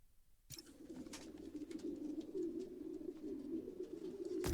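Pigeons coo steadily in a recording from the video game Spider-Man: Miles Morales, a dense, continuous murmur of several birds heard close and alone after a brief silent start.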